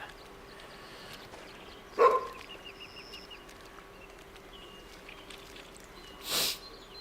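A Golden Retriever barks in the hunting game The Hunter: Call of the Wild during a duck hunt, giving two short, separate barks a few seconds apart over a quiet outdoor ambience.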